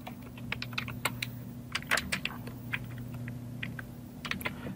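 Rapid, irregular clicking of computer keyboard keys as text is typed during a Photoshop session, close and clear with short bursts and pauses, over a steady low hum and with no voices.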